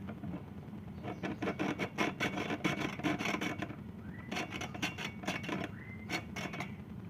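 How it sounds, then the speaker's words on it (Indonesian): Rapid back-and-forth rasping strokes of a hacksaw on a jet pump's water pipe, in quick rhythmic bursts with brief pauses, close by and fairly quiet. "Kita langsung potong saja menggunakan gergaji besi."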